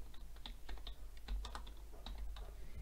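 Quiet, close tapping on a computer keyboard, irregular clicks spread over a low steady hum.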